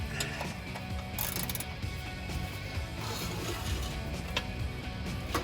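A ratchet clicks as bolts are tightened on a DV8 Offroad rear differential skid plate fitted to a Jeep Wrangler JL's Dana 44 axle. Sharp metallic clicks come in short bursts over a busy mechanical background, close by, with no speech.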